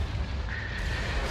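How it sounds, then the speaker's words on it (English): Proton torpedo launchers fire in Star Wars: Empire at War (Thrawn's Revenge mod) during a space battle against a Star Destroyer: a loud, continuous rumbling barrage of booming blasts with heavy low end, and a faint thin whine entering midway. "Proton torpedo launcher."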